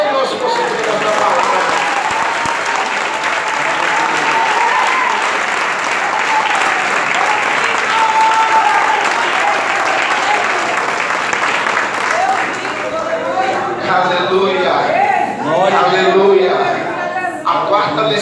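A church congregation applauds loudly and steadily through most of the clip, a dense wash of clapping that thins near the end as scattered voices and a speaker come through.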